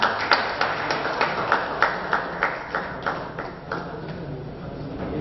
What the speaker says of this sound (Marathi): तीन वार जोरदार टाळ्या वाजवायच्या